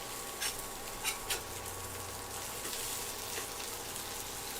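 Hot dogs on a grill give a faint, continuous sizzle with a few soft pops and ticks over a low background hum.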